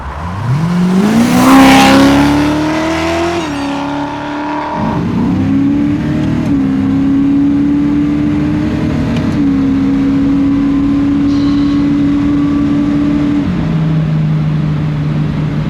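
A BMW E21 fitted with a 5.8-litre Chevy V8 roars as it accelerates hard, the loud engine note climbing through the gears and then holding a steady droning pitch close by before easing off at the end.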